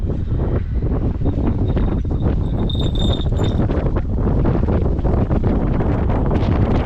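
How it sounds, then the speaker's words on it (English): Strong wind in Ireland buffets the microphone in loud, continuous gusts, with a brief high whistling tone partway through. "it is a very windy day"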